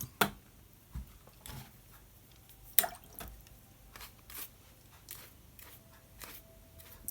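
A brush wets areas of a watercolor coastal landscape painting, giving soft intermittent drips and squishy dabs of water, with several sharp brief taps spread across a quiet background.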